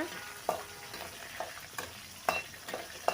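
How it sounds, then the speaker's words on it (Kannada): Garlic cloves fry in a pan with greens, a faint low sizzle broken by several sharp, evenly spaced taps and scrapes of a spatula. "ಎಸ್ಲಾಗಿರುವಂಥ ಬೆಳ್ಳುಳ್ಳಿ ಕೂಡ ಹಾಕ್ಕೊಂಡಿದ್ದೀನಿ ಚೆನ್ನಾಗಿ ಸ್ವಲ್ಪ ಫ್ರೈ ಮಾಡ್ಕೊಳ್ಳೋಣ"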